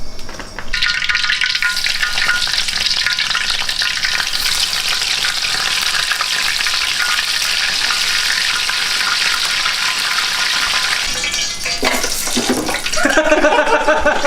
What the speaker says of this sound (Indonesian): Tempe goreng yang simpel Buat makan malam.